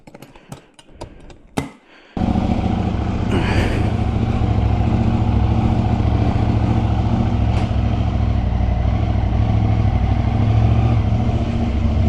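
A 2025 Husqvarna Svartpilen 801 with an Ixil slip-on exhaust accelerates up close with a loud, steady engine roar that lasts to the end, after a few sharp clicks and knocks at the start.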